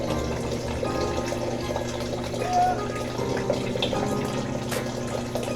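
Tap water running steadily during medical handwashing, a continuous rushing stream under a spoken voice throughout.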